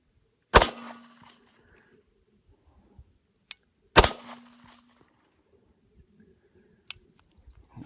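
Two sharp Glock pistol shots at an outdoor range, spaced about three seconds apart, each loud and close with a short ringing tail, followed by faint distant metallic ticks from a metal tin plate target.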